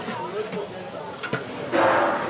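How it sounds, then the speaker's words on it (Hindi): Onions frying in a large pot for a huge 20 kg mutton dish: a steady, broad sizzling hiss with occasional clinks of stirring that swells louder near the end, with a voice talking over it. "प्याज को अच्छी तरीके से इसको फ्राई किया जाएगा"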